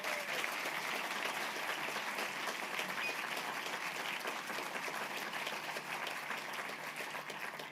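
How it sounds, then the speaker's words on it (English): An audience at a literary award ceremony applauds the judges, a steady, dense round of clapping that holds evenly for several seconds with no voices over it. "we might just give them a big round of applause for the commitment"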